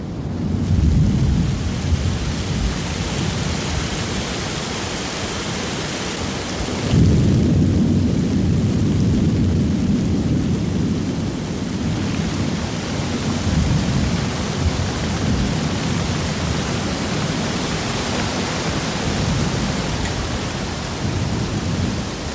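Tropical afternoon thunderstorm at Port Keats in Australia's Top End, with heavy rain pouring steadily and a dense roar of rain and rumbling thunder throughout, swelling louder partway through, with no voices.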